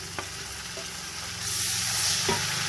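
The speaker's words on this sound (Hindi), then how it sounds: "तो भर के 2 टेबलस्पून इसमें लहसुन और 2 टेबलस्पून इसमें पिसा हुआ अदरक डाल दें।" Steady sizzling of garlic and ground ginger frying in a hot pan, with a few faint clicks and stirring scrapes; the hiss grows louder partway through.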